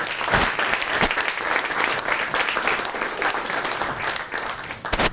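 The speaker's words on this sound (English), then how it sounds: "can I have a round of applause for our panelists?" An audience applauds panelists at an economics talk on Silicon Valley, AI and innovation, with dense, steady clapping from a room full of people, sustained throughout with a few louder claps near the end.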